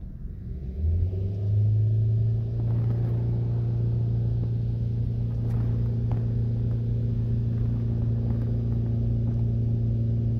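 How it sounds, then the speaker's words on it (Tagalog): 2016 Hyundai Accent engine with an overheating problem, revving up from idle to a steady raised speed, producing a close, continuous low droning hum with no talk over it. "Dagdagan natin yung RPM para mapa-automatic natin."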